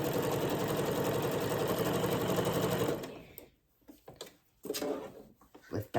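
A sewing machine stitching butcher twine to gather fabric runs in a fast, even close whir for about three seconds, then stops, followed by quiet handling clicks and rustles.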